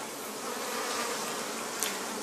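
Honey bees buzzing around open brood-nest hives, a dense, continuous drone at a steady level with no pauses and no voices.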